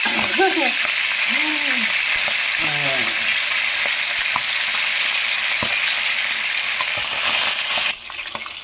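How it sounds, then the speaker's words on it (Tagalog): Fish fries steadily in a pan, a dense, continuous hiss and crackle filling the whole stretch, loud and close, with a few brief voice-like chirps early on, then dropping off abruptly near the end. "Ang bilis lang magluto ng piniritong isda."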